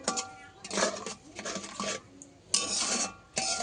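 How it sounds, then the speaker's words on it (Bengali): Grated coconut and sugar stirred in a pot for rice naru, bursts of scraping and rubbing from a spoon against the metal, close by, in uneven strokes with short pauses between. "ততক্ষণ না চিনি গলে ততক্ষণ আমি নাড়তে থাকবো।"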